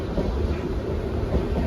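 Steady low rumble and rattle of a passenger train rolling along the rails in Kerala, continuous and fairly loud throughout with no voices.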